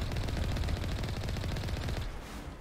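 Rapid automatic gunfire from the Mako tank in Mass Effect Legendary Edition, a dense continuous rattle of shots that cuts off near the end, loud and without voices.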